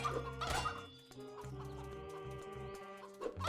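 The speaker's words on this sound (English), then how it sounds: "You ever just go around and kill chickens?" Video-game chickens cluck in short, repeated bursts, close and clear, over a sustained musical backdrop with no talk.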